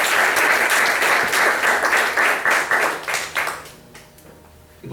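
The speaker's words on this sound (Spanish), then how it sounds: "Den un aplauso al Señor." A church congregation claps together in loud, dense applause during a worship service, a steady roar of hand claps that thins out and fades near the end, leaving only a few scattered claps.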